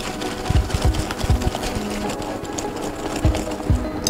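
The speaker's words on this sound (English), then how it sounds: "I'm going to add in the egg, 1 egg, and just going to whisk this" An egg is whisked into brown butter and sugar in a bowl, with quick irregular scraping taps and clicks of the whisk close by, and no talk.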